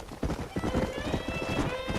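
Horses in Red Dead Redemption clop along in a steady rhythm of hoofbeats, with a brief neigh and faint voices mixed in.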